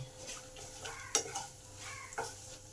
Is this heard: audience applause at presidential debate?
no